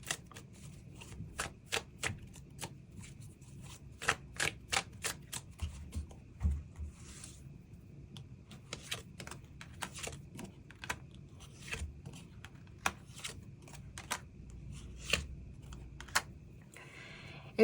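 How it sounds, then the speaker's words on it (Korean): Tarot cards being shuffled and drawn, a run of crisp, close riffling snaps and soft flicks in uneven bursts with short pauses, heard alone without talk. "추가 카드로 앞으로 우리 두 사람 관계에 필요한 조언의 카드 무엇이 있을지 추가 카드 뽑아보도록 하겠습니다"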